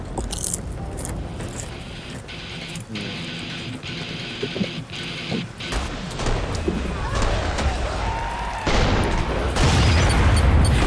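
A teammate's gun fires loudly in the Killing Floor 2 video game, producing a dense, continuous stream of booming, crashing shots and impacts that fill the whole stretch and grow heavier toward the end.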